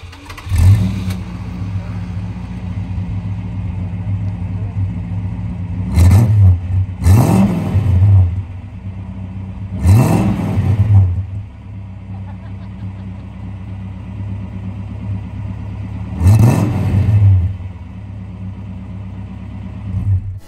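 A 1964 Plymouth Barracuda's idling engine rumbles steadily up close, broken by five sharp revs, several in quick succession, each climbing and then dropping back to idle.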